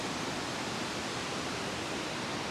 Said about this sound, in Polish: Tu jest widoczny jeden wodospad.